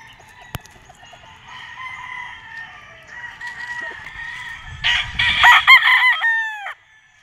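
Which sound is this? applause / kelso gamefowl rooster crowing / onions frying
kelso gamefowl rooster crowing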